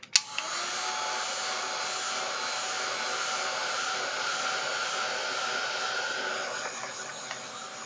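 A hair dryer blows steadily for nearly eight seconds to dry paint, a constant close whirring rush after a brief click at switch-on, tapering slightly near the end.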